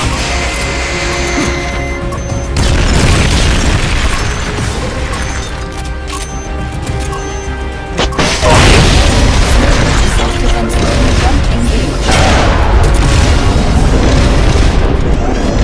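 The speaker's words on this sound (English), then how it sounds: "Incoming missile. You've got to stop Peace Walker before she can launch her nuke." Missile blasts in the video game Metal Gear Solid: Peace Walker, a dense, loud wall of booming explosions and crashing debris under layered game music and effects, with a heavier burst around the midpoint.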